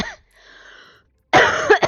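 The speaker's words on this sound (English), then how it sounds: "how long does it take to get rid of a cough? This is so annoying." A person coughs: one short cough at the start, then a loud, close burst of harsh coughing with throat-clearing near the end, with a quiet pause between.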